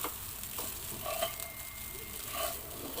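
Leftover rice sizzles and fries in a pan while being mixed into fried rice, a steady close crackle with soft stirring scrapes.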